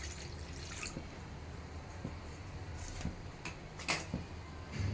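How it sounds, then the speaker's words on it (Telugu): Water poured from a glass into a kitchen bowl makes soft, quiet trickles and scattered drips, with a couple of slightly louder splashes near the end; no one speaks. "ఈ గ్లాస్ తోటి నీళ్ళు తీసుకుందాం మనం"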